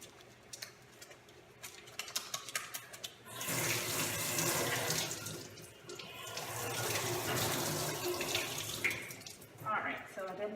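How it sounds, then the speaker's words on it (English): Running tap water pours loudly and steadily into a sink as hands are washed with regular soap before a surgical scrub, following a few seconds of quieter handling and clinks. "I'm just going to start with a regular hand wash with regular soap"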